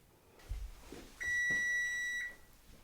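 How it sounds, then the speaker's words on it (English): A kitchen timer goes off once with a single sustained electronic beep lasting about a second, loud and steady, in a quiet room while steel cut oats cook. "So our timer's just gone off for the steel cut oats"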